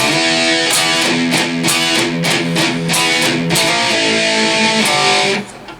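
Loud distorted electric guitar plays a chugging palm-muted riff, with repeated choppy strums and a slide, no voices, cutting off at the end.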